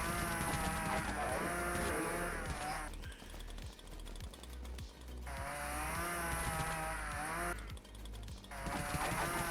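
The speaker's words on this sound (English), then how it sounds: "So look how much faster that is with a chainsaw." A chainsaw in the Dead Frontier video game revs in bursts, rising to a high whine and then easing off. The engine roars twice, close and loud.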